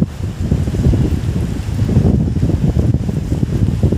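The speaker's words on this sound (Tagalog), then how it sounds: "Lakas na hangin, no?" Strong wind roars and buffets steadily at a floating restaurant in Taguig, Metro Manila, a continuous low rumbling rush with gusts swelling and easing, no voices.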